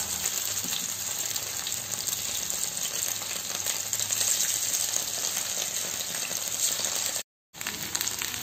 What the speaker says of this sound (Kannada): ಈಗ ಎಣ್ಣೆ ಎಣ್ಣೆ ಬಿಸಿ ಆಯಿತು, ಒಂದೊಂದೇ ಪೀಸನ್ನು ಹಾಕ್ತೇನೆ.